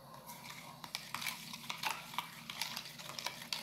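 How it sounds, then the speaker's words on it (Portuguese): Milk mixed with baking soda for homemade soap is stirred cold in a container, producing soft, quiet scrapes and light clinks in an uneven rhythm, close up. "Nós vamos mexer."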